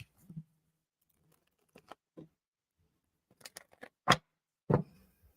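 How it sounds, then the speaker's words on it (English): Tarot cards being shuffled during a card reading, giving a few scattered soft riffles and taps followed by a couple of sharper, louder slaps near the end, close and alone in an otherwise quiet room. "I feel I need to shuffle once"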